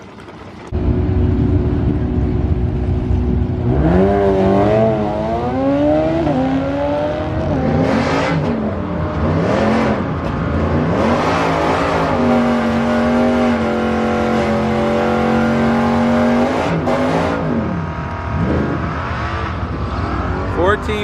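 A supercharged Ford Mustang drag car engine revs hard and accelerates, rising through gears in long loud sweeps, sustained and close for about twenty seconds.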